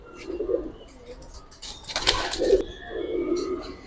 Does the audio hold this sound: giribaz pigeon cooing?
yes